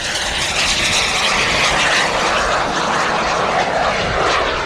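An airplane flies at an airshow with its engine roaring loud and steady, a close, rough mechanical drone that stays constant with no talk over it.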